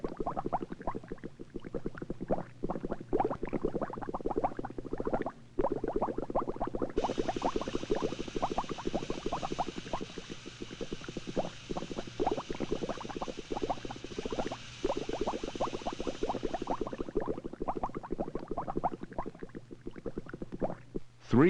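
Water boils at a steady roll, with dense irregular bubbling and popping that continues throughout, while a faint high hiss rises in the middle and then fades. No one speaks.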